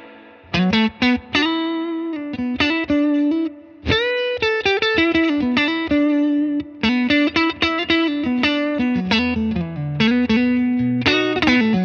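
Electric guitar with a rear humbucker pickup, played with reverb, clean bright notes and quick runs separated by short pauses, a light reverb tail ringing behind each phrase.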